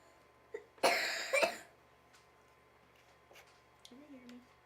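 A child coughs in a short burst of two or three harsh coughs close to the microphone, with quiet room tone and faint voices before and after.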